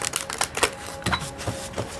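Oracle cards being shuffled by hand in quick bursts of papery riffling and flicking, close and fairly loud, several short irregular rustles with no talk.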